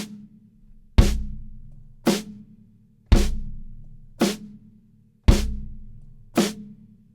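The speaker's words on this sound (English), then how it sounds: "we're going to just be doing quarter notes on the snare drum and quarter notes on the bass drum" A drum kit plays a quarter-note pattern, the snare on every beat while the bass drum and hi-hat foot alternate underneath. Six sharp, evenly spaced hits ring out alone and close, each with a low thump and a short decay.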